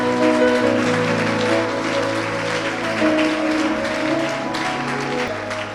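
Church congregation applauding and acclaiming the Lord during a worship service, a dense continuous wash of clapping over sustained tones from an organ or keyboard, loud and unbroken.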